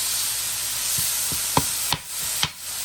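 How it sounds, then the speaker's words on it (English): Shaved beef frying in butter and olive oil on a griddle, a loud steady hiss close up, broken by a few sharp spatula scrapes and clicks near the end. "I got butter and olive oil on the griddle."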